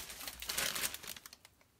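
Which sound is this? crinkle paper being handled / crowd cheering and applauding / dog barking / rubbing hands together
crinkle paper being handled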